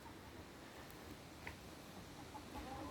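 Faint clucking of young roosters and an old hen in the distance, soft and intermittent over quiet outdoor background noise.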